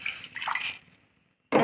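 Water is poured into a cooking pot for a Tamil rasam: a short splashing pour fades out, a brief quiet follows, and a second louder gush of liquid starts at the end.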